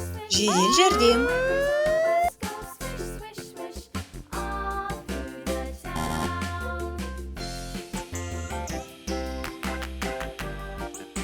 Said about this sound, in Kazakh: Жедел жәрдем.